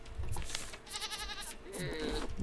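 Goat in the survival video game Raft gives a few wavering, nasal bleats at close range, with soft game ambience underneath.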